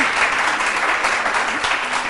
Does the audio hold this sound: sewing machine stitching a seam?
no